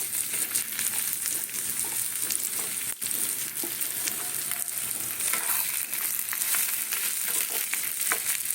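Pointed gourd frying in a pan with black cumin over onions, a steady close sizzle with occasional stirring scrapes running unbroken throughout.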